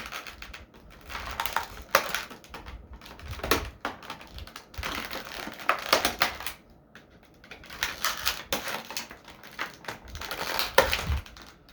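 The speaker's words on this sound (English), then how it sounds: "I'm going to cut all the ties on him real quick." Cutting the many plastic ties off a NECA Creature From The Black Lagoon action figure: close, faint clicks, snips and rustling of packaging in irregular bursts with short pauses between.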